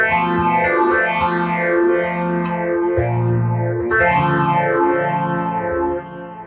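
Clean electric guitar chords ring out through a Wampler Ethereal delay pedal's shimmering delay and modulation, repeats sweeping and overlapping into a lush wash, played alone and fairly loud.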